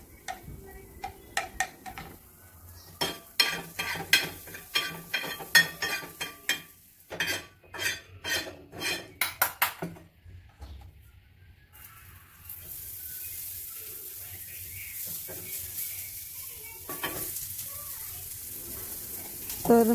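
Masala roasting in a pan on a griddle, with brisk clattering spatula strokes and taps against the metal, then a steady sizzling hiss carrying on alone.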